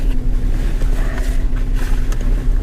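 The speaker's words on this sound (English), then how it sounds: "I could probably turn off the car, get rid of some of that background noise" A parked car's engine idles with a steady low hum and rumble heard from inside the vehicle, continuous and fairly loud throughout.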